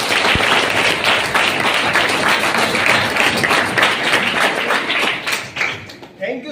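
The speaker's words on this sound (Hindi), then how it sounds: "इनके लिए जोरदार ताली बजा दीजिए।" Children applaud together in a school traffic-awareness session, a dense, loud burst of continuous clapping that holds steady for several seconds and then thins and fades toward the end.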